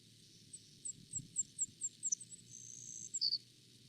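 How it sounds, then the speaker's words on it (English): Savannah sparrow song: a series of thin, high buzzy notes repeated evenly, then a drawn-out trill and a final sharp buzz, clear and fairly close over quiet low background rumble. "And so the Savannah sparrow sounds like this."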